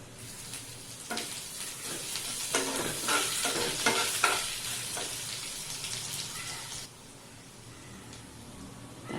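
Cumin, turmeric, asafoetida and grated ginger sizzle in hot oil for a guava bhaji, a close hissing fry with bursts of stirring that fades toward a quieter sizzle near the end.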